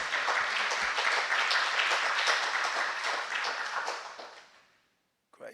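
Conference audience applause, a dense sustained wash of clapping from a large crowd that fades out near the end.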